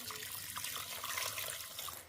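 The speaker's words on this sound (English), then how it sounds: "Here I have 4 cups of water. That's going in." Four cups of water pour steadily into an Instant Pot, a continuous close splashing stream while making beef birria, with no talking.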